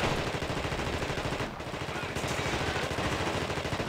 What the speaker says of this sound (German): mit dem Granatenwerfer schießt man natürlich Granaten.